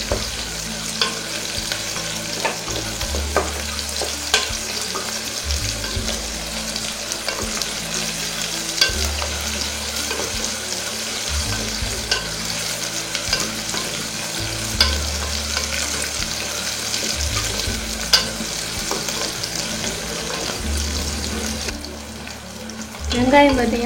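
Small onions sizzling in a pan as a spoon stirs them, a steady close frying crackle with periodic scraping strokes across the pan over about twenty seconds.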